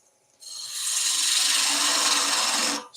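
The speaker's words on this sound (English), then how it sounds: "Let's get a spindle gouge in there." A spindle gouge cuts into spinning wood on a lathe, a single steady, bright shaving hiss lasting about two seconds, close and fairly loud, with no talking.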